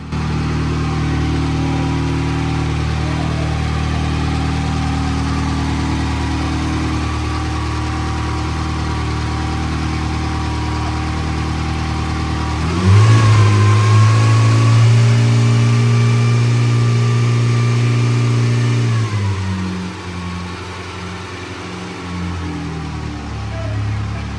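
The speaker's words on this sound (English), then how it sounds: "Matt plans to race this car at the Goodwood Festival of Speed" A Bugatti race car being prepared for the Goodwood Festival of Speed idles loudly and steadily, then revs sharply around the midpoint, holding a higher engine note for several seconds before settling back to idle.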